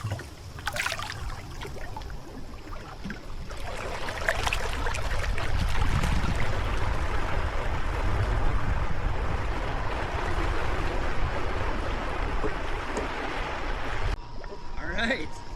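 A LiftX electric hydrofoil board rides across open water, giving a continuous rushing, splashing water noise that swells in the middle. Wind buffets the mic, and brief voices come in near the start and end.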